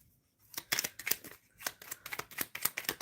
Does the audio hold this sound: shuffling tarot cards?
yes